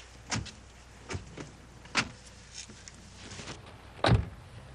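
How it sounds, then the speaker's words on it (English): Power reclining rear seat motor in a 1988 Ford Scorpio, heard as several short whirring bursts spaced apart with a louder one near the end. "Scorpio has power reclining rear seats"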